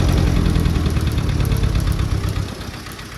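A Farmall Cub tractor engine, started for the first time after 20 years and running lean, idles loudly and steadily up close with a rough, uneven throb and no voices over it.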